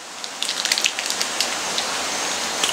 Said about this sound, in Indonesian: Hujan men.